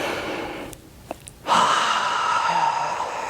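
A forceful exhale during Pilates breathing on a reformer, starting with a few short catches of breath and then a long, steady, airy rush of breath out, close and fairly loud.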